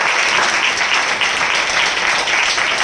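Loud, dense applause from a church assembly audience at a spiritual gathering, steady and sustained throughout without a break, with no voices rising above it.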